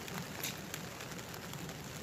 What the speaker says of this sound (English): 10:30, she's raining.